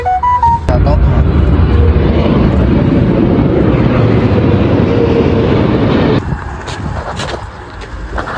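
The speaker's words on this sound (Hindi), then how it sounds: "यहाँ पे हवाई जहाज़ उड़ रहा है बढ़िया पास में" A loud, close roar of an airplane passing low overhead fills the clip, then fades somewhat toward the end.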